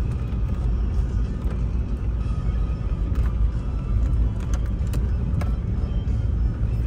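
A Kia Sorento on BF Goodrich tyres drives off-road through snow in the Livadia area of Kissavos, its engine giving a steady, loud rumble with crunching road noise and occasional sharp clicks and knocks, and no talk over it.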